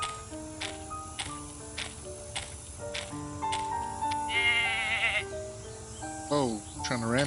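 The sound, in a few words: goat bleating in a video game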